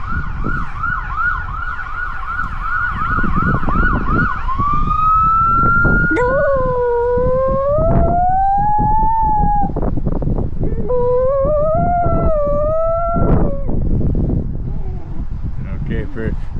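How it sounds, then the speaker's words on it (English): A dog howls along with a passing emergency siren, the wailing siren sweeping first and then the dog's rising and falling howls joining it in long drawn-out notes, fairly close and loud over a low background rumble. "whenever there's a siren, Missy howls."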